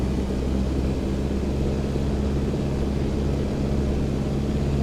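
A Piper PA-18 engine on takeoff in the X-Plane 12 flight simulator, giving a steady, loud, droning hum with strong low tones that holds level throughout with no voices.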